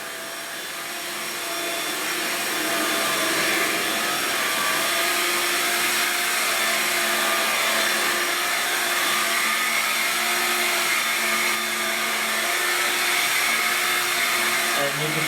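A cordless stick vacuum cleaner, either a Dyson DC35 Digital Slim or a Hoover Linx, picks up pet hair from the floor with a loud, steady whirring motor drone that spins up at the start and holds for the full span.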